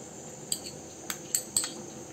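Corn kernels, onion, tomato and capsicum go into a bowl for corn bhel, marked by four light, close metallic clinks of a spoon against the bowl over a quiet background, with no talk.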